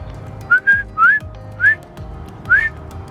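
Short whistle blasts are blown at a heron beside the water, five quick rising tones in an uneven rhythm, clear and close over a low outdoor background.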